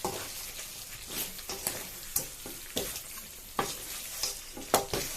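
Chicken wings tossed in sauce in a home kitchen pan, giving a wet sizzle with a series of soft stirring scrapes and clatters, several sharper tosses spaced about half a second apart, close and moderately loud.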